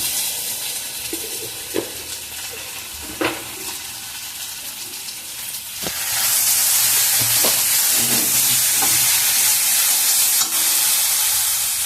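Okra and potatoes sautéed in a pan, with a few scraping stirs over a low sizzle, then a loud steady hiss of frying that fills the second half, punctuated by occasional spoon knocks.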